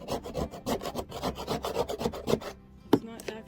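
A 5-in-1 tool rasps hard against a surface, scraping up stubborn black putty in a tiny home build, with rapid, rhythmic close-up scrapes for a few seconds, then a pause and a couple of final sharp strokes.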